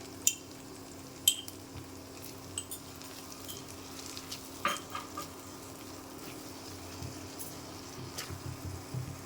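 Chopped tomatoes frying in a pan with soy sauce and tomato sauce give a faint, steady sizzle, broken by a few light clinks and stirring taps of a utensil against the pan.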